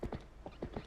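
Horse hooves clip-clop on the ground in The Legend of Zelda: Twilight Princess, with a handful of quick, close, moderately quiet hoofbeats in an uneven gait.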